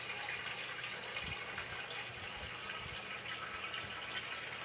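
Water streams from a refrigerator dispenser into a container, a steady, soft, continuous pour with faint low thumps underneath.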